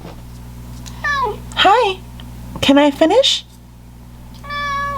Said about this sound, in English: Oh, what a sad little meow